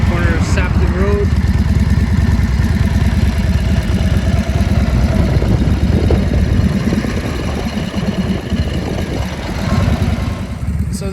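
A 1942 WW2 Harley-Davidson WLC motorcycle rides the backroads of Manitoba, Canada. Its engine makes a loud, continuous low pulsing rumble that holds steady throughout.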